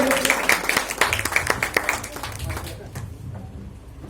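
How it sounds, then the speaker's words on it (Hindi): Audience applause for Prakash Mishra at a gathering, a dense patter of clapping that fades out over a few seconds, with a voice speaking over the start. "जोरदार तालियां मिश्रा सर के लिए।"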